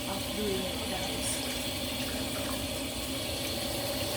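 Raw chicken pieces are rinsed under a running kitchen tap, a steady close splashing flow of water continuing without a break.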